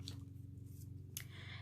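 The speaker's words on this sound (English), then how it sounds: "You can literally cut this with scissors, which is exactly what I did." Scissors snipping through a thin balsa wood fan, quiet crisp cuts, a couple of sharp snips standing out over a low steady background.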